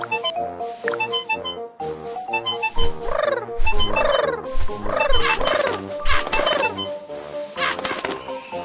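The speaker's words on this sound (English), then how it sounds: "There are birds." Birds in a tree in a Babybus kids' video game, chirping and warbling in quick repeated calls over bright cartoon music, loud and close.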